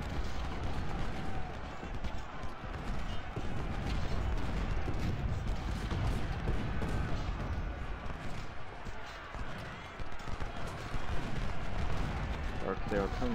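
Continuous rumbling artillery and massed musket fire from a Battle of Antietam engagement in a Civil War strategy game, a dense unbroken roar of distant volleys and booms heard under a voice speaking.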